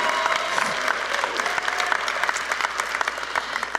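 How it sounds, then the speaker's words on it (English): An audience at a college graduation ceremony claps steadily, a dense, even patter of many hands heard from within the crowd, moderately loud and continuous throughout with no voices standing out. "Go ahead, clap."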